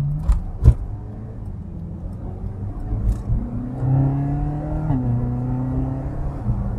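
Ferrari California's 4.3-liter V8 engine pulling along an open road with the top down, a steady mid-level drone that climbs through the revs, with a few sharp knocks early on.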